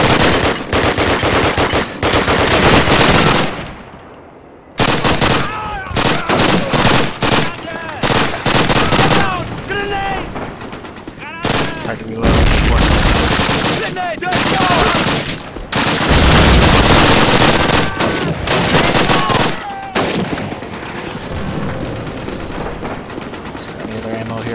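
Submachine gun fire in a Call of Duty Soviet mission, loud rapid bursts of automatic shots repeating throughout, with other battle gunfire mixed in and up close.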